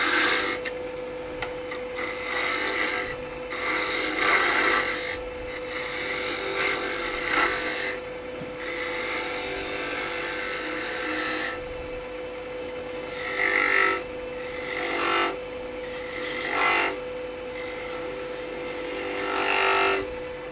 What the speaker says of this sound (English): Let's go ahead and do a peeling cut and get rid of some of this excess